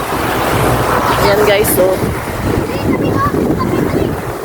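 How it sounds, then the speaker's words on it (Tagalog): Rough, choppy sea churns with a steady roar of waves and wind buffeting the microphone, loud and continuous, while someone talks briefly over it. "malaki yung dagat ngayon guys, medyo maalon-alon siya"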